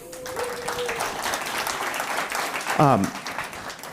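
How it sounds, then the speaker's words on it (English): A crowd at a Techstars space startup demo day applauds steadily throughout, a thick wash of clapping with voices and a brief tonal sound mixed in partway through. "Give yourselves a big round of applause"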